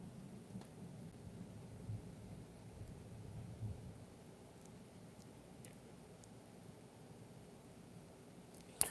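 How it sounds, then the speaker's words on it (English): Faint, distant rumble of thunder under steady low rain noise, a soft quiet storm with a few faint crackles and a brief knock at the end. "You hear that thunder?"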